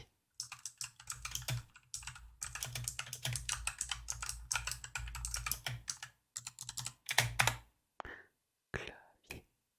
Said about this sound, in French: Un clavier, un joli petit clavier.